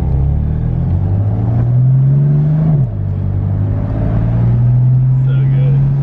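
A BMW F80 M3 drives along with a loud, close engine drone that climbs in pitch as it accelerates, drops briefly at a gear change, then holds a steady cruising hum.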